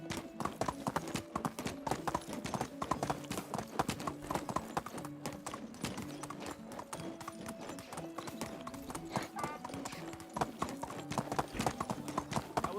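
Horse hooves in the medieval life-sim game Medieval Dynasty, clip-clopping in a steady, rhythmic trot over ground, near and fairly loud, continuing evenly throughout with a faint voice now and then.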